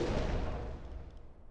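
A torpedo launches from a WWII U-boat in the submarine game UBOAT, a loud, muffled whoosh that decays over about a second and a half, with no voices.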